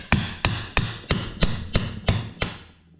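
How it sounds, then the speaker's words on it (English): A mini sledgehammer strikes a screwdriver on a Subaru short block engine during disassembly: eight sharp, evenly spaced metallic blows, each ringing briefly, loud and close, with the last ones slightly softer. "I've got a nice little mini sledgehammer here."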